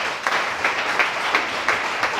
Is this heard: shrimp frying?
no